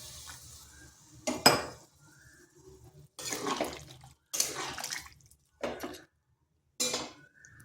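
Water splashes into a cooking pot for a vegetarian jackfruit (echor) curry, in several separate close bursts of pouring and clinking between short pauses.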